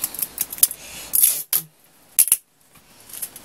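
Sharp, crackly strips of adhesive tape pull off the roll in short bursts as it is wrapped around a thin twisted wire, with brief pauses and small handling clicks nearby.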